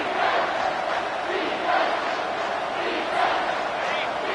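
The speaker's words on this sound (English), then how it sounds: "this crowd will blow out a vocal cord to help this defense" A packed football stadium crowd roars continuously on a third down, a loud, sustained wall of cheering and yelling that swells in waves without letup.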